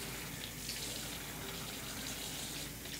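Hot water pours steadily into a cup for lemon water in a home kitchen, a continuous close gushing stream that lasts the whole stretch and cuts off at the very end.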